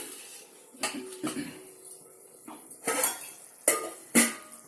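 A spoon clanks and scrapes against a pot while stirring curry, followed by sharp metal clinks as a lid is set on, several distinct knocks spread across the moment, close and fairly loud.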